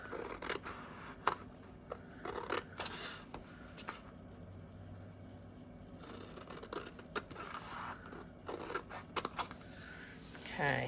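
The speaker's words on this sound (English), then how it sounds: "I'm going to use my better scissors for this bit." Sharp craft scissors snip paper for a journal page in a quiet room, giving a series of soft, irregular crisp cuts with pauses between them.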